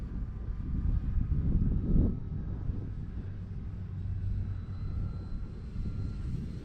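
An E-flite Clipped Wing Cub RC model airplane is flying a slow turn, its electric motor giving a steady low drone from a moderate distance over light wind noise on the microphone.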